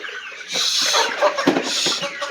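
Several chickens on a poultry farm cluck and squawk close by in a continuous overlapping chorus, with a steady background hiss and no talking.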